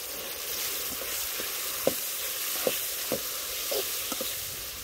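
Curry leaves sizzle in hot oil in a pan while a village-style Vellore brinjal kuzhambu is made, a soft steady frying hiss broken by a few sharp crackles and pops.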